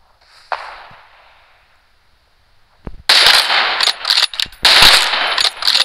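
Rapid video game gunfire erupts after a quiet stretch: loud, close, tightly spaced bursts of shots, with brief gaps between volleys.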